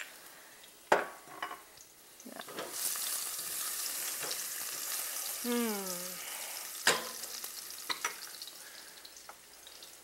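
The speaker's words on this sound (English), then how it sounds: "Did you hear the sizzling sound?" Garlic sizzles in oil in a pan over a medium flame, a steady close crackle broken by sharp clinks and scrapes of stirring, with a brief squeaky tone partway through.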